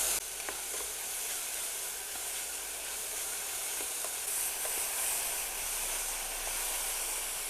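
Apple pieces sauté in a hot pan, a continuous loud close sizzle and hiss with occasional small crackles, steady throughout without speech.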